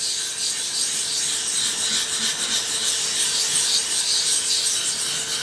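A Japanese nakiri knife blade slides over a 3000 grit whetstone in steady, close polishing strokes, a continuous hissing scrape with soft rhythmic swells and no voices.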